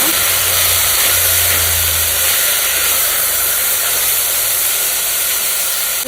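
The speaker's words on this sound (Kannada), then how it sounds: "ಸ್ವಲ್ಪ ಚೆನ್ನಾಗಿ ಫ್ರೈ ಆಗಬೇಕು ತರಕಾರಿ ಎಲ್ಲ" Vegetables fry in a pan with a loud, continuous close-up hiss of sizzling oil that barely changes over several seconds.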